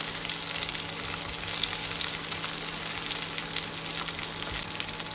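Garlic frying in oil over a medium flame for a chutney, a steady dense sizzle with faint crackles running throughout, close and fairly quiet, with no voices.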